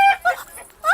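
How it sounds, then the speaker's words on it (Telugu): A hen clucks close by in a few short, loud, throaty bursts separated by brief pauses, with no talking. "ఇక్కడెక్కడో కోడి సౌండ్ అనిపిస్తుంది"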